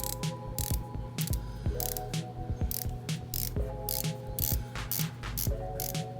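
Rotating bezel on an OGA Emergent wristwatch turned in a steady run of crisp ratcheting clicks, close and clear, with no talking.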